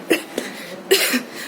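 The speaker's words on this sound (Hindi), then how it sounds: "मेरी खांसी अभी तक ठीक नहीं हुई है प्रॉपर" A woman with a lingering cough that hasn't cleared up coughs a few times in short, close bursts, loud against a quiet background with no talking.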